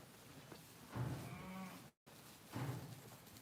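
Sheep bleat in a lambing shed at night, two drawn-out, low, moderately close calls separated by a brief silent gap, over faint background rustle.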